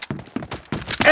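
A weapon reloading in a video game: a quick, loud run of mechanical clunks and clicks in close succession, lasting about a second.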